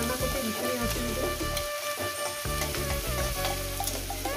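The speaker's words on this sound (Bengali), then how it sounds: "রসুনটা আমার ভাজা হয়ে গেছে দেখুন" Garlic frying in a pan in a home kitchen gives a steady, close sizzle with a crackling, rain-like texture that runs the whole time without a break.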